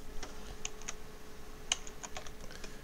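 Typing on a computer keyboard while entering a station name into encoder software, a quiet, irregular run of sharp key clicks with brief pauses, close by and with no talking.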